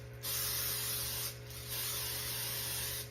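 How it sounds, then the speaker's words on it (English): Cooking spray hisses onto a cake pan in two long bursts of about a second each, with a brief pause between them, up close and alone over a faint steady hum. "Let's spray this baby."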